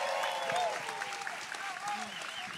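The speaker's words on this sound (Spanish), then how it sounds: "Señores, con el aplauso de ustedes" A concert audience welcomes performers with faint, scattered applause heard from a distance, as a voice speaks over the clapping and a few higher-pitched vocal sounds rise above it.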